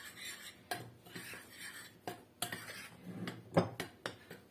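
Dry quiche dough ingredients with sugar, salt, baking powder, oregano and pepper being stirred in a bowl, giving soft scraping and clinking utensil sounds with a few sharper taps, quiet and close.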